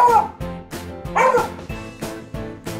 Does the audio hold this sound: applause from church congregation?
no